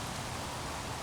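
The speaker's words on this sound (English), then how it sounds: "the rain is still coming down" Rain falls steadily in a dense, even hiss that stays constant and moderately quiet, with no voices.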